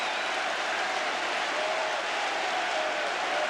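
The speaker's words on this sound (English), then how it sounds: "Applause from his manager." Crowd applause at a Watford versus Tottenham football match after a headed goal by Jurgen Klinsmann, a dense steady roar of clapping and cheering from a large stadium crowd, sustained at even loudness throughout.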